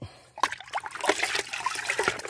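Fermented fruit liquid fertilizer for porang plants trickles and splashes as it is stirred and poured in a drum, a close, uneven wet dribbling with no talk.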